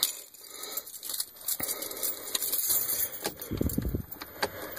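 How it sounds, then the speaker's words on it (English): Keys jingle and clink in bursts while someone hunts for the right one beside a 1995 Ford F-150 pickup, with a louder rattling cluster near the end over faint background hum. "Gotta find the right keys now."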